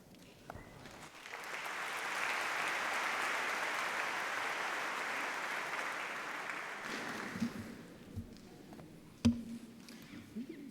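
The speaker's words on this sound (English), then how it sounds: "we do owe him another huge round of applause for that" Sustained audience applause at a university graduation ceremony, a broad even wash of clapping that swells quickly, holds for several seconds, then dies away into scattered room noise and a few thumps.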